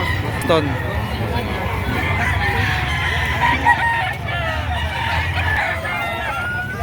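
Roosters crow and hens cluck at a busy chicken market in Batangas, mixed with steady crowd murmur and voices nearby.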